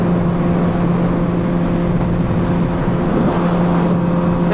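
An MV Agusta Superveloce motorcycle being ridden on a street: a close, loud, steady engine drone with a constant hum, mixed with wind and road noise and no voices.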